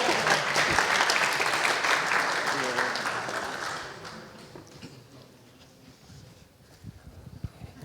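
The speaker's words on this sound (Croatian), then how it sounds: "Aplauz." An audience at a conference prize draw and closing breaks into applause that swells and then fades over a few seconds, leaving faint room noise and scattered claps.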